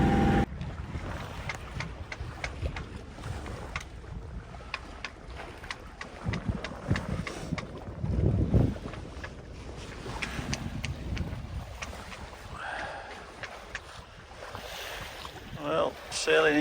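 A Hustler 30 sailboat under way in the wind at sunrise, with gusty wind buffeting the microphone, water rushing and slapping along the hull, and occasional creaks and knocks on board over a long stretch.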